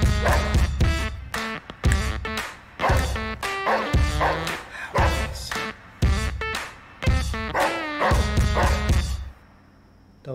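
Repeated dog barks and yips in quick bursts, loud and close, with short pauses between volleys and a quieter stretch at the end.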